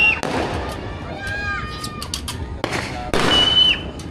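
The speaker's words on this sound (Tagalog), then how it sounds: "Ayun, fireworks oh, yun oh!" Fireworks bursting outdoors, with a few sharp booming blasts and crackles spread over a few seconds, plus whistling trails, while people talk excitedly over them.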